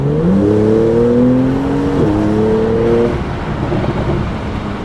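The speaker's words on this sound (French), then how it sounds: "On entend le petit crépitement d'échappement." Porsche GTS 3.0 sports car with exhaust valves open and sport mode engaged, its engine revving loud and close with a rising drone and a brief shift, the exhaust rumbling steadily throughout.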